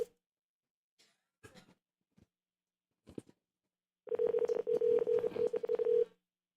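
Telephone dialing tones during a call: a few scattered short beeps, then a rapid, loud run of keypad tones for about two seconds before the line falls silent.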